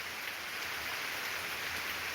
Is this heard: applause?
no